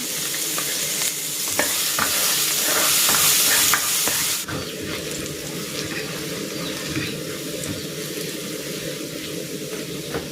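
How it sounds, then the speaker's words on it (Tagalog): Garlic sautés in cooking oil in a hot wok, making a loud continuous sizzle with stirring scrapes that eases to a steadier fry after a few seconds. "Maglalagay na ako ng cooking oil. Igigisa ko na tong bawang."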